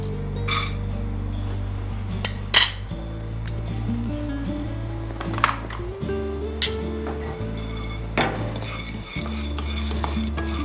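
Two tablespoons of peanuts are dry-roasted in a pan and stirred, with scattered clinks and scrapes of a utensil against metal over a low steady hum. No talk.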